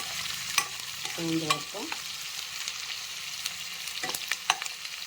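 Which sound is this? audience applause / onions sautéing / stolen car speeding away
onions sautéing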